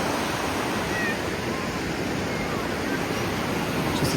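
Sea waves wash steadily onto a palm-lined beach in Salalah, Oman, a constant broad surf rush close by with no talking.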